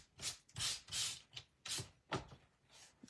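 Sandpaper rubbing across cardstock up close, in about six quick, rhythmic scratchy strokes with short pauses between them.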